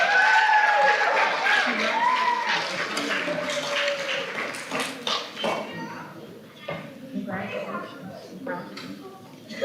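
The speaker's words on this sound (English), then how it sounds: "So congratulations, round of applause." An audience at a fifth-grade awards ceremony applauds the scholars with a dense clapping that is loudest at first and thins out. Voices of people talking mix in with the clapping.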